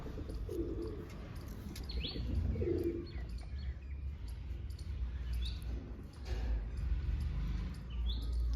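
Domestic pigeons cooing softly at a home loft, with a few short throaty coos and brief chirps over a constant low background hum, fairly faint and with no speech.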